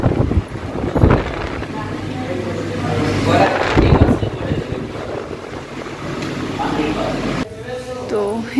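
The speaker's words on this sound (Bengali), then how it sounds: "এত সুন্দর হাওয়া এখানটায়।" Outdoor wind buffeting the microphone at a zoo, a steady loud rushing roar with gusts, while a person speaks over it.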